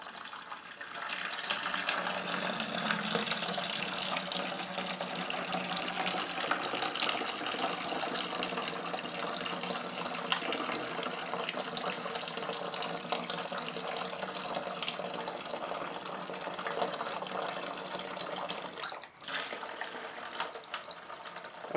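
Liquid drains steadily from a bread whiskey mash as it is sparged, giving a continuous close trickling, pouring wash that stays even for about twenty seconds, with one brief dip near the end.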